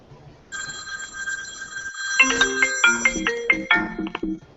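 Two telephones ring at once in a meeting room, one a steady electronic trill and the other a melodic ringtone joining halfway through, the two overlapping in a busy, moderately loud jangle.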